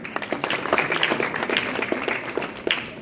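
Live audience at a stand-up comedy show in Kigali clapping steadily throughout, a dense continuous patter with a few louder claps standing out, fairly close and without speech.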